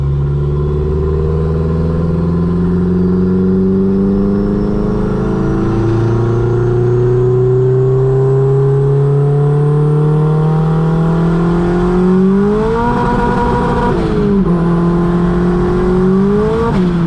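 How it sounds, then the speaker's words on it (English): An engine strains through a hard third-gear pull, its pitch rising steadily from inside the car, loud and close, with a brief dip and surge near the end and no talk. "So let's do another third gear pull."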